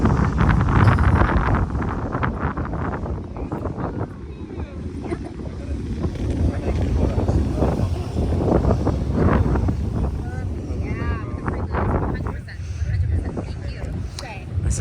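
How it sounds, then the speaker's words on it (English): Strong wind gusting across a microphone on a beach during a tropical storm, a loud roaring rush that swells and dips continuously, with surf-like noise blended in and no clear speech. "And that's not pink noise you're hearing, that is the wind."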